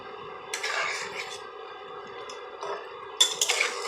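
A spoon stirs egg curry in a pan, with a few quiet scrapes and clinks of metal in short bursts and a sharper clatter at the end.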